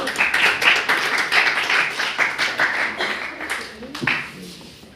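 Audience applause and clapping at a university speaking-club event, a dense patter of many hands sustained for about four seconds before thinning out, with some voices mixed in.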